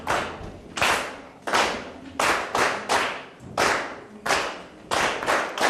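A group claps a dance rhythm together, a steady pattern of loud, close claps with some paired beats, repeating over several seconds in a room.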